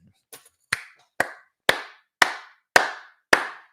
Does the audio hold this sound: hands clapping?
yes